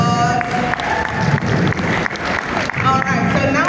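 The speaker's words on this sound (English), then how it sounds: "Please can we give a round of applause?" An audience at a food and drink festival applauds, with a steady spatter of clapping from a crowd under a voice speaking over it for several seconds.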